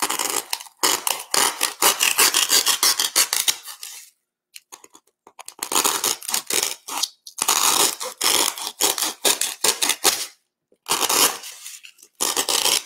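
Shaving and trimming a handmade craft 3D geode gives bursts of close, scratchy cutting and scraping strokes in rapid runs, broken by short silent pauses.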